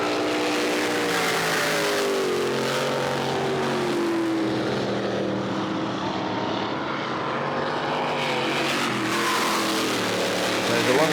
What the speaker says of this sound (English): Very similar sounding engines.